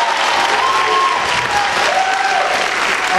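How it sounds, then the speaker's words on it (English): An audience at a college speech night debate applauds the debaters, a dense, loud burst of clapping that holds steady throughout. "Can I get one more big round of applause for Tristan and Joa?"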